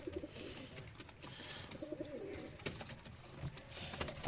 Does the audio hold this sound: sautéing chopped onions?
no